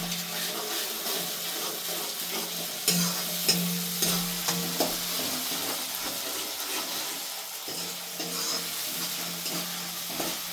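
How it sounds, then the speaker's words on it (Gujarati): Tomato puree cooking with peas and onion in a pan: steady frying sizzle with intermittent stirring scrapes and light clatter, close and fairly quiet, no voices. "હવે આપણે ટમેટાની પ્યુરી નાખી દઈશું અંદર. એને પણ ઘડીક વાર આપણે ચડવા દઈશું"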